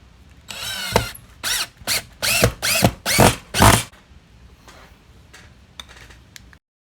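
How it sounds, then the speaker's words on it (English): A power drill drives screws into a wooden jig for a 1 x 30 belt sander, six loud, close whirring bursts in quick succession, followed by softer handling clicks and no talking. "So I'm just going to clamp that in place right now and then screw it in."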